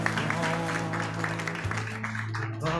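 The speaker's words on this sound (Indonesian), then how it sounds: "Tepuk tangan dong" A church congregation claps steadily in rhythm over sustained worship music during an Easter service, moderately loud.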